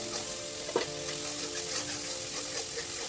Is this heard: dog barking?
no